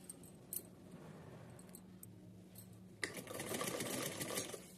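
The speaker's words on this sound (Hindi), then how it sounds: "चलिए सिलते हैं।" A sewing machine stitches lace trim onto a small doll dress, a quiet run-up of light clicks and handling, then a loud steady motor whir with rapid needle chatter for the last couple of seconds.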